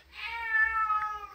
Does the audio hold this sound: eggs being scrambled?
no